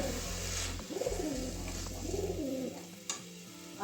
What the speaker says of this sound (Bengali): পায়রার ডাক শুনতে পাচ্ছেন আমার রান্নাঘরের পাশে পায়রা চাল দেওয়া হয় ওখানে চাল খেতে এসছে আর আওয়াজ করছে গুটু গুটু করছে